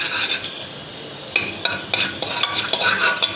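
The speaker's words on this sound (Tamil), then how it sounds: "பட்டர் போட்டதை சிம்மில் வச்சுருங்க" A small piece of butter frying in a pan on low heat, a steady soft sizzle with light stirring and utensil clicks against the pan toward the end.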